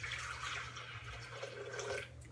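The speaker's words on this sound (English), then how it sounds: "So I've got some cold water here, and I'm gonna dump some in." Cold water poured from a container into a blender jar of oats, a steady close splashing pour that runs for a couple of seconds with no talk.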